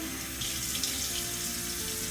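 Tap water runs steadily into a sink as a constant close splashing hiss while a face is wetted during a skincare routine, with no talking.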